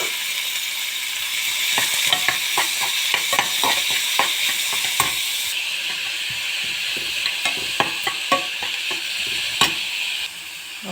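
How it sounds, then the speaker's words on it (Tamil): Onions sautéing in hot oil in a kadai with cinnamon and cloves, a steady close sizzle broken by frequent scraping and stirring clicks of a spoon against the pan throughout. "அப்புறம் வெங்காயம் போட்டு நல்லா வதக்கிங்க"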